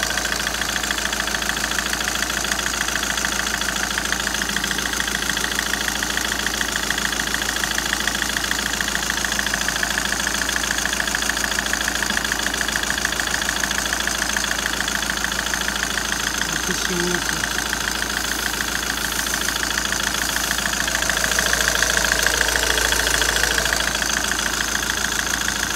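A Citroën C5 engine idles steadily throughout an air-conditioning recharge, a constant mid-pitched hum with a faint ticking knock, close by and alone, swelling slightly near the end.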